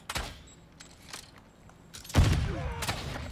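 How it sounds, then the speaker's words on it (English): Explosive crossbow rounds blast in Call of Duty Modern Warfare 2, a sharp burst at the start followed by a heavy, booming explosion with rumbling tail, loud and close. "I just got a triple with the explosion!"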